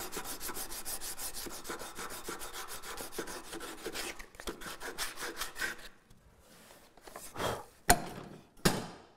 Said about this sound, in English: Go in and sand it